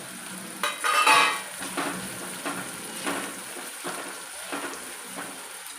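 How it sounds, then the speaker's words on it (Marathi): Onion frying in oil in a pan for shev usal: an even sizzle broken by several soft scraping stirs of a utensil against the pan, near and moderately loud. "त्याच्यावर आपण हा कांदा घालूया आणि कांदा चांगला मस्त असा परतून घेऊया तांबूस होईपर्यंत."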